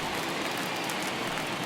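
Rain falls steadily in MLB The Show 21 baseball game, a dense, even hiss with no break, heard alone.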